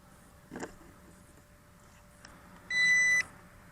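A short electronic beep from an XR-7 Nano hexacopter drone binding to its controller rings out alone after a couple of faint clicks, steady in pitch and lasting about half a second.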